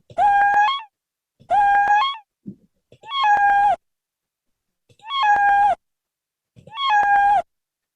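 Five electronically altered cat meows in a row, evenly spaced, each a drawn-out, unnaturally tonal yowl separated by brief silences.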